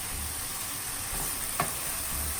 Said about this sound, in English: we are going to add our mushrooms to this, and we are going to saute them till they are brown.